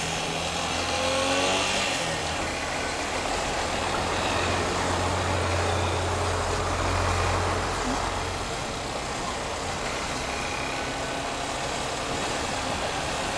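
Street traffic rumbles steadily at a pedestrian crosswalk as a car engine idles and churns nearby, a continuous low drone with heavier vehicle noise swelling and fading throughout.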